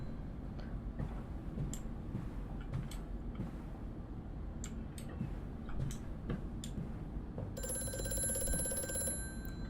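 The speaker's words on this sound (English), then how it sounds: "let's answer the phone" A telephone ringing in the video game Amnesia: A Machine For Pigs, its bright electronic ring starting near the end over a low rumbling ambience scattered with faint ticking clicks; no speech.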